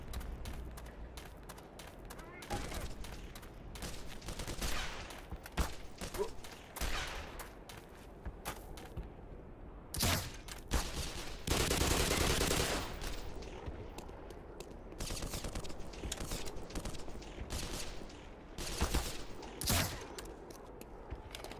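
Energy gun fire in the Black Mesa video game, bursts of rapid crackling shots and sharp cracks recurring over about twenty seconds, with a louder roaring blast partway through and faint talk now and then.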